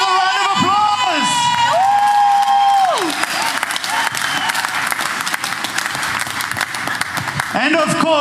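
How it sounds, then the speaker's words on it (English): A crowd at a rally for an eThekwini mayoral candidate erupts in loud applause, cheers and whoops, with high shouting voices rising above steady clapping throughout. "Let's give him another round of applause."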